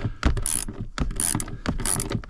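Ratchet socket wrench working on E12 bolts of a newer Jeep front seat bracket, rapid clicking ratchet bursts in three close strokes with faint rustling between.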